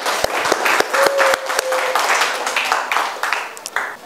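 A small class gives applause for a classmate, close and uneven clapping with sharp individual claps standing out, and a brief tone partway through.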